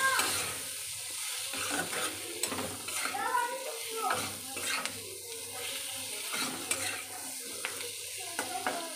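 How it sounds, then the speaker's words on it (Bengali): Garlic fries in a pan with chili and cumin powder, a steady sizzle broken by scraping stirs of a utensil against the pan, with faint talk underneath. "দিয়ে ভালো করে কষিয়ে নেবো"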